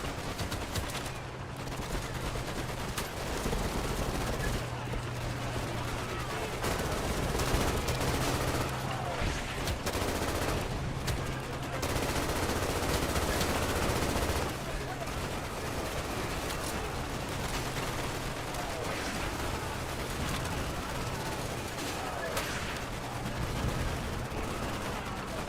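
Machine gun fire rattles through a video game firefight, sustained bursts of rapid shots running almost without pause under a steady hum, with some speech mixed in.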